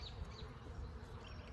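Honey bees hum around beehives heavy with nectar, a close, continuous low buzz with no talking.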